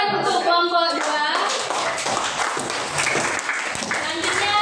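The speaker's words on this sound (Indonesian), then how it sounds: "kasih tepuk tangan untuk kelompok 2" Classroom students clapping for a group after a Wordwall quiz, a burst of hand claps that follows an opening voice and continues as scattered, uneven clapping under background chatter.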